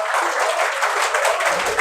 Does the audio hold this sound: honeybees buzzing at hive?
no